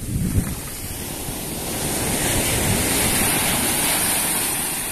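Sea waves wash onto the beach at Cát Bà, Vietnam, a loud, steady surf roar that swells slightly midway, with wind buffeting the microphone and no voices.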